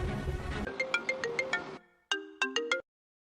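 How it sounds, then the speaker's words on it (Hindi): An electronic phone ringtone plays a quick melodic series of bright tones, followed by a pause and a second short burst of rising notes. "मैं बुलाता हूँ उसको फोन करके"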